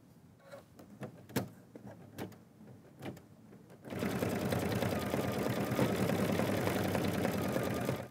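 A sewing machine runs steadily, top stitching over a satin stitch to hold the layers down, following a few soft clicks and handling sounds, loud and close.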